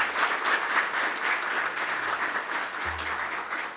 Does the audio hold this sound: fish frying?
no